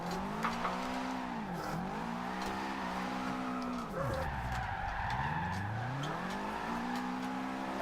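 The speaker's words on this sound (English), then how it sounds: "let's get drifting around this car park" In the Forza Horizon 2 video game, a Subaru WRX STI drifts around a car park, tires squealing in long sweeping wails while the engine revs rise and dip, loud and close throughout.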